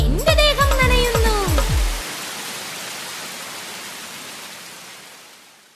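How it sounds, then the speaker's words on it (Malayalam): Rain falls steadily as a broad, even hiss, following about two seconds of a sung children's rain rhyme with music, then continuing alone and slowly fading toward the end. "മഴ പെയ്യുമ്പോൾ എന്റെ ദേഹം നനയുന്നു"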